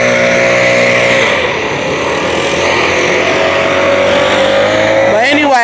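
A loud car roars past close by, its engine tone rising and sweeping as it passes, with a voice talking over it throughout.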